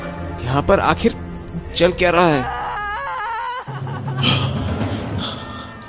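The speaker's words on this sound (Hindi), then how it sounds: "ये किसकी रोने की आवाज है?" An eerie wavering cry from a horror cartoon rises briefly between stretches of dialogue, a drawn-out moaning wail that stands out for about a second before the talking resumes.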